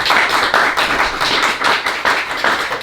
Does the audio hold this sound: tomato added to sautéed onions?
no